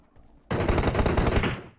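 Automatic gunfire in the PUBG Mobile battle royale game, a sudden loud burst of rapid shots lasting about a second after near-silence, then cutting off.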